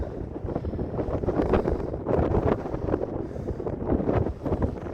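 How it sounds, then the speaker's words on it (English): Strong gusts of wind at Sandwood Bay in Scotland buffet the microphone, a constant low roar swelling and easing in waves with no voices. "It's already windy standing just even on that corner there."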